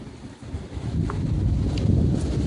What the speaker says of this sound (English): The wind's been whipping pretty good.